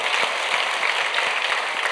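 A church congregation stands and claps to welcome new members during a Sunday service, giving two seconds of continuous, even applause from many hands at close range.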